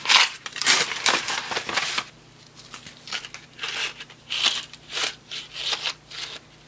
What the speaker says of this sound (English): I think I know what's in here by the sound of it. They sound like crystals.